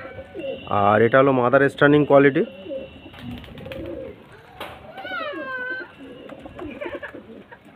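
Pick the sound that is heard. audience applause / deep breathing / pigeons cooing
pigeons cooing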